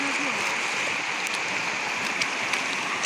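River water rushes near a waterfall at Phillobari, a steady close roar of flowing water with a few faint clicks and brief vocal sounds in the background.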